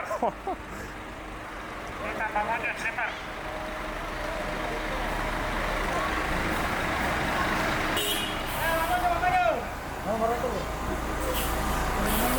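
A sleeper night bus in Sulawesi, Indonesia rumbles with a steady engine drone and hissing air brakes, loud and close, under chatter and road noise.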